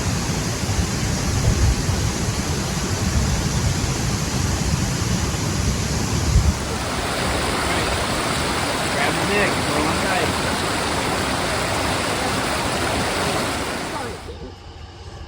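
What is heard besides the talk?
waterfall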